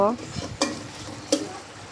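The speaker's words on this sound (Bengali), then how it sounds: "এই যে সিদ্ধ করা কচু রাখা হয়েছে, এই কচু দিয়ে দিব" Boiled taro goes into a pan of frying beef tripe, with a steady sizzle of hot oil and two soft thuds and stirring scrapes as the pieces drop in and are moved around.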